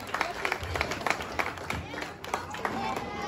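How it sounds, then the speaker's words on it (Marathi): An audience at a costume show for a Ram Pran Pratishtha celebration claps in a sustained, dense round of applause, mixed with crowd murmur and voices. "जोरदार टाळ्या त्यांच्यासाठी होऊ द्या"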